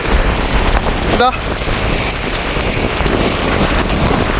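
Stormy wind buffeting the microphone over rough sea waves crashing on a coast at Keerimalai, a loud continuous roar with a brief whistling gust partway through.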